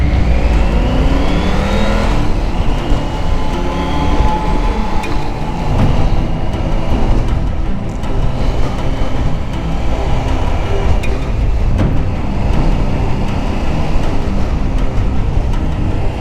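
Triumph 900 Rally triple-cylinder motorcycle ridden on the road, its engine droning steadily with rising and falling revs, wind rush constant throughout, no talking.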